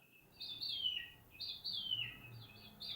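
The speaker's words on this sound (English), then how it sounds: "That is a loud bird." A loud outdoor bird repeats a descending, warbling whistle three times in quick succession, clear and fairly close over faint background hum, with no talking.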